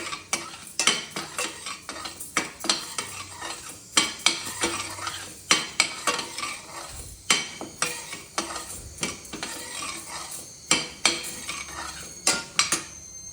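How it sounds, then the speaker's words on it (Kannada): Urad dal dry roasting in a pan is stirred steadily, with rapid rattling scrapes and clinks of a spoon on metal, a faint sizzle underneath and no voices. "ಈಗ ಉದ್ದಿನಬೇಳೆ ಎಲ್ಲ ಡ್ರೈ ರೋಸ್ಟ್ ಮಾಡ್ಕೋಬೇಕು."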